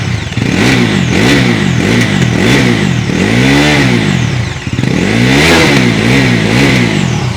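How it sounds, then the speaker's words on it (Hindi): A 2025 Bajaj Pulsar NS400Z quick shifter model revs hard through its exhaust, rising and falling in repeated loud, close throttle blips with a deep growl, and no talking. "अभी एक्सीलेट करके इसकी अंडर वैली एग्जॉस्ट सुनते हैं पहले"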